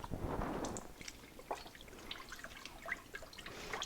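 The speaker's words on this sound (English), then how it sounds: "we're going to deglaze the pan with a little bit of beef broth" Beef broth poured into a hot pan to deglaze it for an old-fashioned beef stew, a faint trickling, splashing pour with soft drips and a gentle sizzle, with no voices.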